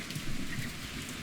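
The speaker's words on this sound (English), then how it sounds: "Abundant rains water the savanna, and it has blossomed." Rain falls in a video game event where abundant rains water the savanna, a steady, soft hiss of raindrops on surfaces, faint and continuous, with no voices.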